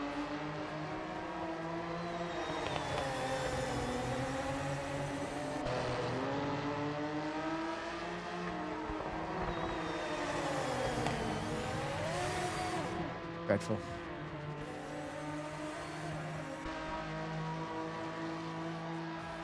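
Race car engines in the Project Motor Racing video game, droning and rising and falling through gear changes and revs, continuous and fairly loud, with someone briefly talking over it.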